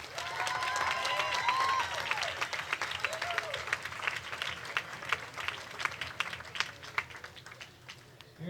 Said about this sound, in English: Let's give these athletes a loud round of applause